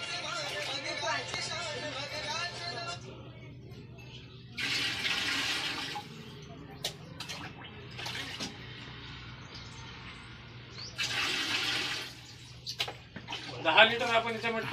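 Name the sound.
pouring water and cow urine into a container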